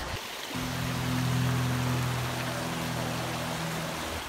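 A waterfall stream pours steadily while a water bottle is refilled in it, a close, constant rushing wash with a low, droning hum running beneath it.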